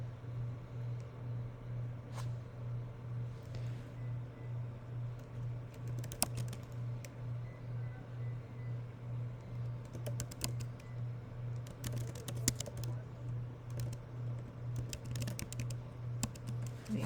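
Irregular keystrokes patter across a computer keyboard, close but faint, with a steady low hum running underneath and occasional sharper clicks.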